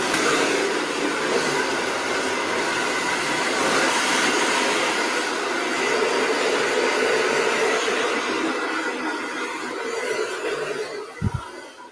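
A hair dryer blows a steady, loud airflow roar over wet hair for most of the stretch, then cuts off near the end with a brief bump.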